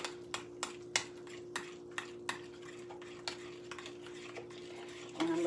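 Spoon stirring and scraping through keto bacon cheeseburger casserole ingredients in a bowl, giving a series of sharp, regular clinks and scrapes close by over a steady background hum, with no talking.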